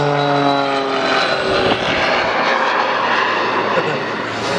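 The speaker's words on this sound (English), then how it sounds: "Just waiting for the sound of the jet." A jet aircraft at the 2023 Clacton airshow fills the air with a loud, continuous engine roar, its tone sliding downward as it passes overhead.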